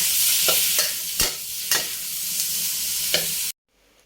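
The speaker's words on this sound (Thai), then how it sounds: "เนี่ยผัดไปพอสุกสักหกสิบเจ็ดสิบเปอร์เซ็นต์ก็เริ่มปรุงรสค่ะ" Ribeye beef stir-frying in a hot pan, a strong steady sizzle broken by several sharp scrapes of a spatula, close by, ending abruptly in silence.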